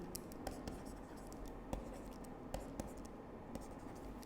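Chalk or marker scratching and tapping on a board during a group theory lecture, steady faint strokes with occasional sharper taps over a constant room hiss, no speech.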